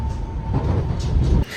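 Steady low rumble inside a South Western Railway passenger train bound for London Waterloo, with a faint tonal hum and rattling carriage noise that cuts off abruptly near the end.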